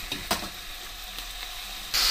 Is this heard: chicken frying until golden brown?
yes